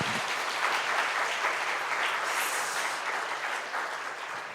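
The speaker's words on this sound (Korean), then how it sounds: "다시 한번 격려와 감사의 박수" A church congregation applauds during a Sunday afternoon worship service, steady dense clapping that holds at an even level for several seconds before easing off slightly.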